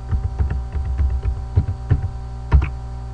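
A name being typed on a computer keyboard, a quick irregular run of close, dull key taps over a low steady hum.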